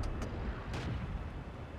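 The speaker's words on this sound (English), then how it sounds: "Trying to go for a tracking shot there." A tank gun fires in World of Tanks, two short sharp reports in quick succession over a low engine rumble, fairly loud and close.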